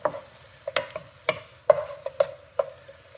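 A wooden utensil stirs pork belly in a pan, making about a dozen crisp scraping taps in an irregular rhythm over a soft sizzle, close and clear with no talking.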